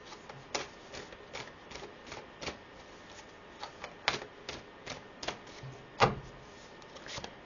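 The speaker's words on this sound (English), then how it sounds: "let me pull a card here from the Moonology deck" Moonology oracle cards being shuffled and drawn make a series of soft, close, irregular flicks and taps, with a few sharper snaps among them.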